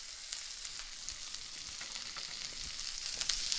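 Chilli and chopped spring onion sizzle in a hot frying pan while Sichuan salt and pepper prawns are cooked, giving a steady, soft hiss with faint crackles that swells slightly toward the end, with no talking.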